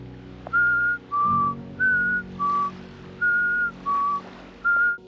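On a desert island beach, a person whistles a series of eight short, clear alternating high and low notes in a steady rhythm to lure hermit crabs out, close and alone over faint background.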